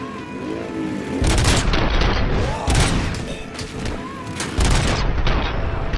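Loud gunfire and heavy booming blasts hit a tank in the video game Robocop Rogue City, arriving in several dense bursts, each with a sharp attack and a short decay.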